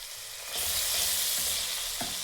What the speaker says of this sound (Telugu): అల్లం వెల్లుల్లిపై ఫ్రై చేసుకుందాం.